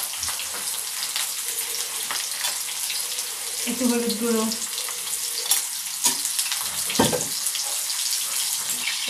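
Potatoes sizzle in a hot pan as salt and turmeric powder are added, a continuous close hiss with occasional stirring clinks, while a person speaks briefly over it.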